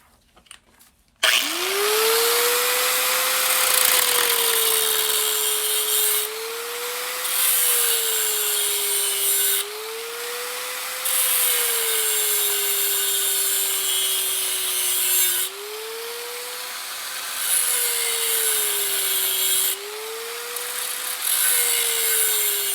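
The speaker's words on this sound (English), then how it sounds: "I just want to cut enough to get the tube separated from the yoke." A power saw cuts through the steel tube of a 1961 Rambler driveshaft close to the yoke, giving a loud, steady, high grinding whine. Its pitch sags and recovers in several long passes, with no talking.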